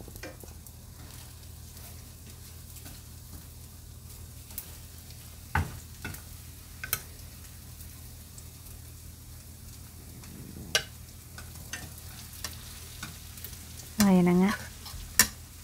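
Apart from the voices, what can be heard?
bread slices frying in a pan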